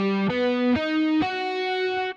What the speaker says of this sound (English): Then you're going into sweep picking.